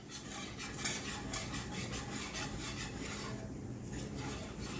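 A big whisk scrapes and stirs flour into oil in a pan, a quick rhythmic metallic rubbing with repeated strokes. It sounds close and steady and carries on with no talk.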